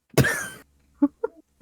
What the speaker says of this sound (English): I was trying to cough right before you started